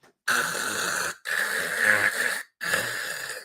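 Three loud, rasping snores in a row, each a long rough drone with brief silent gaps between, clearly made by a voice imitating heavy snoring.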